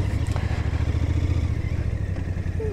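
2025 Royal Enfield Bear 650 scrambler motorcycle engine idling smoothly up close, a steady rhythmic low thumping pulse with a slightly rough, grumbly tone, no talking.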